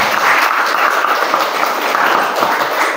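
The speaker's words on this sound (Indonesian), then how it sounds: "kita berikan tepuk tangan kepada pengurus, ya tepuk tangan pengurus" An audience at a Vesak gathering in a Buddhist vihara applauds the organizers, a dense, steady clapping that fills the whole stretch without voices.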